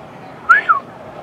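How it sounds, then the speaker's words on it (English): A green whistle blown in two short, loud, rising-then-falling chirps, the second slightly weaker, standing out alone over a quiet background. "it was a green whistle."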